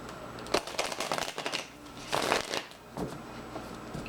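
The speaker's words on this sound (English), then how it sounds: "I'm going to shuffle these just a couple times here." Tarot cards being riffle-shuffled repeatedly, a dense fluttering rattle in several bursts, close and steady with no talking.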